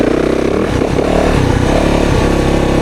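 A 2024 Yamaha YZ450FX dirt bike on a woods ride, its engine loud and close, revving and dipping as gears shift, with brief mechanical clatter.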